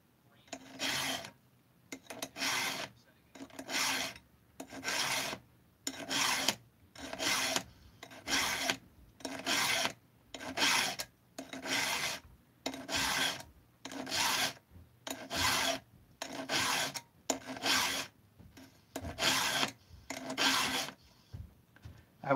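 Hand-filing a chainsaw chain, with about twenty evenly spaced rasping strokes in a steady back-and-forth rhythm, close and fairly quiet.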